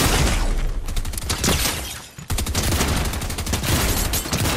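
Dense gunfire erupts in a Fortnite match, rapid overlapping shots loud and continuous, breaking off briefly midway before another heavy barrage resumes.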